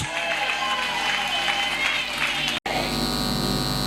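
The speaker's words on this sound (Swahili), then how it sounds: "Wote tupige makofi kwa Yesu mpaka hapo" A church congregation claps together for Jesus during a sermon, a dense, steady round of applause with crowd noise that fills the space, broken once by a sudden brief dropout before carrying on.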